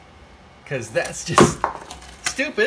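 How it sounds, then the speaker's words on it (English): Screwdriver dropped and clattering onto the floor beside a bare foot, a sharp metallic hit with a brief rattle, close and loud, while someone talks over it. "that noise you just heard was the sound of the screwdriver hitting next to my bare"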